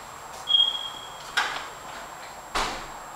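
Tall doors of a house swing open, a faint high creak followed by two soft thuds or knocks spaced about a second apart, close by in a quiet room, with no voices.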